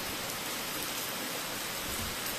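Heavy rain falls steadily beside the Miranda river in flood season, a dense, even hiss of pouring water that stays continuous and fairly quiet, with no talk over it.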